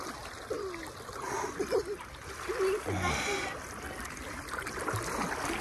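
Water splashes and churns in a small river, with irregular close splashes and sloshing while people talk and exclaim over it.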